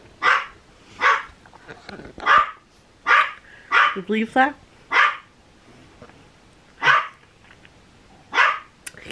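A dog indoors barks repeatedly at cooked chicken pulled from an Instant Pot, about nine sharp, close barks in an uneven rhythm, with a person speaking briefly between them.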